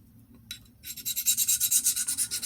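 A knife blade scrapes rhythmically across a polycrystalline diamond sharpening stone in quick, even strokes, a gritty hiss repeating about a dozen times, close up with no talking.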